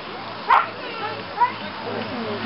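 Dogs harnessed to pull a bicycle let out two short, separate barks outdoors, with people talking throughout.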